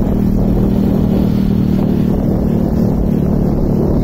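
Motorcycle engine revving hard and continuously close by, a loud sustained roar with wind buffeting, no voices.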